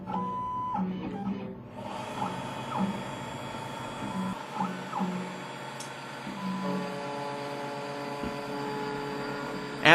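An Ilco Tri Code high-speed key duplicator starts up and cuts a brass key, giving a steady mechanical whir and hum with shifting tones as the cutter moves along the blank, with no talking.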